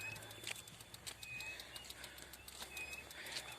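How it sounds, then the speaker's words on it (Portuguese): Three owls perched close by give faint, soft calls that repeat at irregular intervals over a low background hum outdoors. "Olha as corujas aqui na minha frente."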